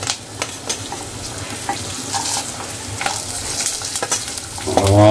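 Dal sautéed in oil with garlic, coriander, whole spices and ginger gives a close, steady sizzle with scraping spoon strokes and intermittent clinks, ending in a louder clatter.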